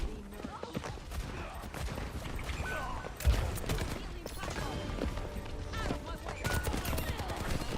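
Gunfire in the Overwatch 2 video game, rapid shots crackling throughout amid dense game effects, with a louder burst near the middle and a player talking over the action.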